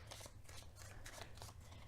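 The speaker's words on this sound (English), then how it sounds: "you gotta give the deck a good shuffle" A deck of playing cards is shuffled several times in quick rhythmic bursts of soft riffling, faint and close, with no talk.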